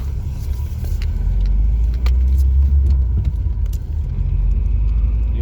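Audi 80 B4 on a test drive, a steady low engine and road rumble filling the cabin with faint rattles and clicks, continuous and fairly loud throughout.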